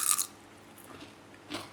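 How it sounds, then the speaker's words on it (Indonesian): Crisp bites into fried cassava: a loud crunching bite up close, then softer chewing crunches, with a second crunchy burst near the end. "Nih bagian luarnya kita coba crispy nih."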